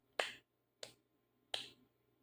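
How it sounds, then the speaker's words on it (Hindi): Three sharp hand claps with short pauses between them, made during a Navarna mantra ritual; each clap is crisp and close, with quiet in between. "ऊपर दिखा के 3 बार ताली मारना"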